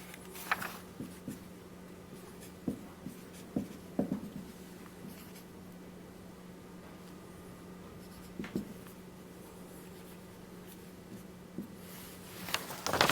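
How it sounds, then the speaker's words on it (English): Chalk or marker tapping and scratching on a board while an equation is written, in sporadic short strokes over a steady low hum, with quiet stretches between. "So I'm going to write it in this way."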